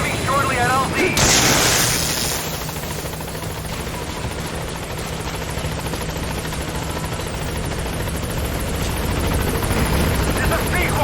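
The Pequod helicopter in Metal Gear Solid V arrives at a landing zone, its rotors thumping loud and steady throughout after a sharp burst near the start, with a radio voice talking over it.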